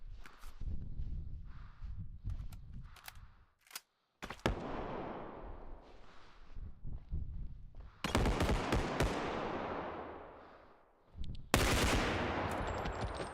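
Video game gunfire rattles in rapid automatic bursts, loud and close, broken by short pauses and sharp single shots.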